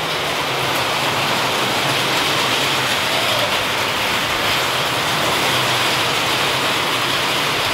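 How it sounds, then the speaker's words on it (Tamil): Steady heavy rain falling outside, a dense continuous hiss and patter that stays loud and even throughout with no voices. "வெளியில் தான் மழை பேஞ்சிக்கிட்டே இருக்கு."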